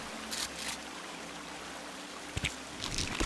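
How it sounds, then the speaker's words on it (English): In the video game Sons of the Forest, faint splashes strike water a few times over a quiet, steady trickle in the background. "It's hitting the water."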